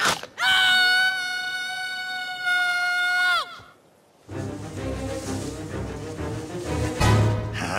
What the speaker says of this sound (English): Get on that rock and scream.